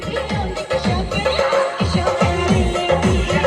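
Horses neigh and whinny loudly and repeatedly at a rally where children ride mares to celebrate their exam results, with a steady busy crowd din underneath.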